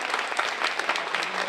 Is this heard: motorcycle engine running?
no